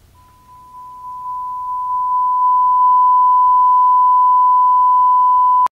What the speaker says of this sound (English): Under PCM Audio Tone, select Sine Wave.